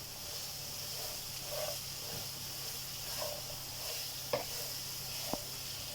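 Shredded cabbage sizzles gently in melted butter in a pan for an egg sandwich, a low, steady hiss broken by a couple of faint clinks from stirring.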